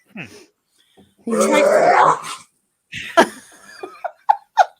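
A pet dog reacting to crackers gives a drawn-out, rising vocal whine close by, followed by short bursts of laughter and chuckling from people.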